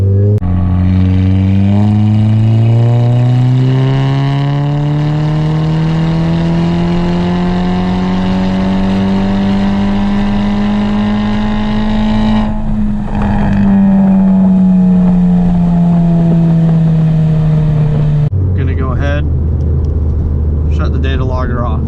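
Car engine held at full throttle during a data-logging run, its loud droning pitch climbing steadily, then dipping and climbing again before dropping off near the end as the revs fall away.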